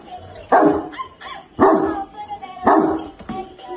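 A 1990s battery toy dog that barks and does somersaults lets out three evenly spaced, close yapping barks, with faint voices in between.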